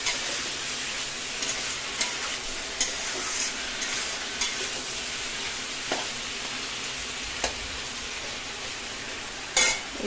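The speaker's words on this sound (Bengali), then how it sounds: "একটু ভাজা করে নিই, তারপর মশলা দিয়ে কষাই করবো।" Prawns and fresh ash gourd fry gently in a pan, giving a soft steady sizzle. A utensil scrapes and stirs at irregular moments, with no talk over it.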